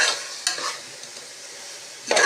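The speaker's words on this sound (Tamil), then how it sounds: "நல்லா வதக்கணும்." Vegetables for veg biryani sizzle softly in a pan, with a couple of scraping stirs from a utensil; no talking.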